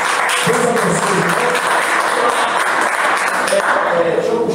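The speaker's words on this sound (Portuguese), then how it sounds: "Aplauda Jesus." A church congregation applauds during a worship service. Loud, dense clapping fills the clip at an even level, with voices mixed into it.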